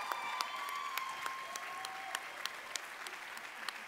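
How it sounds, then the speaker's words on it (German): An audience at a beauty pageant show applauds steadily, a continuous patter of many hands with occasional sharper claps, moderately distant and without talk. "Alle drei, Applaus."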